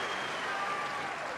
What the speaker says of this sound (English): What a reaction from the crowd.